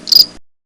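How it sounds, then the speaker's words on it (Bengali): A single short cricket chirp, bright and loud, sounding outside at night in a cartoon, then silence. "বাইরে ঝিঝি পোকার ডাক শোনা যাচ্ছে।"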